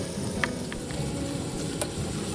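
Hagfish is stir-fried in a pan with scallion, onion and chili, giving a faint, steady sizzle with a few light clicks of stirring.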